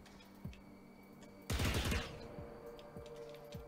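A short burst of SMG fire in the sci-fi shooter The Anacrusis, a quick rattling volley lasting about half a second, set against quieter game ambience with a few faint isolated shots and thumps.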